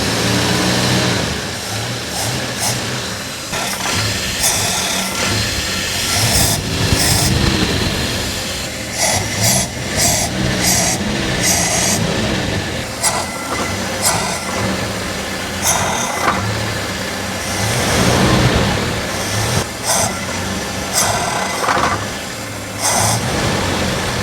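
A street car's engine idles steadily for the whole stretch, a loud, continuous mid-pitched rumble with small fluctuations and no talking.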